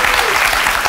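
Studio audience applause on a late-night talk show, a dense, loud burst of clapping filling the whole short moment.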